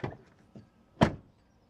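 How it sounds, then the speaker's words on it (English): A door on a BMW iX3 electric SUV swings shut, with a softer thump and faint rustle first, then one solid, close, dull slam that fades quickly, no voices. "the door closing sounds"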